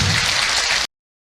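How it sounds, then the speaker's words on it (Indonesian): Audience applause for a speaker after an Islamic sermon on in-law manners, a dense, steady wash of many hands clapping at close range that stops abruptly under a second in. "Sekali lagi tepuk tangan buat Ibu Zaria."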